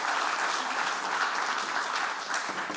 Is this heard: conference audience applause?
yes